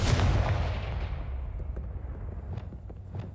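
The Confringo blasting curse in Hogwarts Legacy, a loud explosive burst at the start that decays into a rumbling tail, followed by a few fainter cracks and pops.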